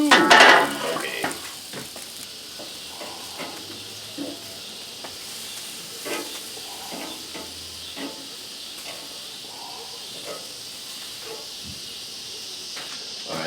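Ribeye steaks and steak kabobs on a grill give off a steady, soft sizzle and hiss, opening with a brief loud clatter of grill tools, then scattered light clicks and scrapes over the continuous frying.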